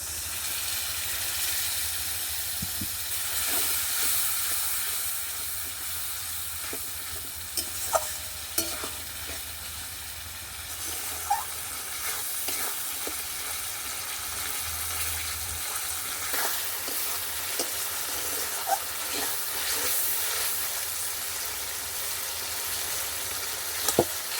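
Chopped tomato and a little water hit a well-fried spice paste for ghugni, giving a steady broad sizzling hiss with occasional stirring clicks and scrapes throughout.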